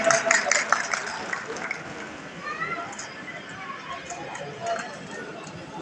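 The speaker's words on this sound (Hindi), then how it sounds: "एक बार जोरदार तालियों से स्वागत करें, अभिनंदन करके" Audience applause welcomes a guest at the Shrimali Samaj Manthan 2024 community gathering in Bhinmal, a dense, steady hall-wide clapping with voices and crowd murmur mixed in.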